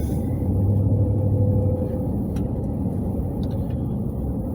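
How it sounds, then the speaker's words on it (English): A car drives through Atlanta traffic on I-285, heard as a steady, loud low rumble of engine and road noise from inside the cabin, continuous throughout with no talking. "I don't particularly like driving in this traffic"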